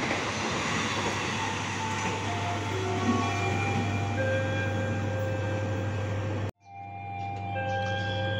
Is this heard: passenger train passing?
yes